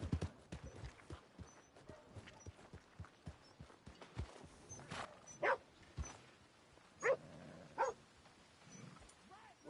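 Horse hooves clip-clop at a stable in a steady uneven rhythm, fairly close, with scattered knocks and a few louder thuds and some background voices.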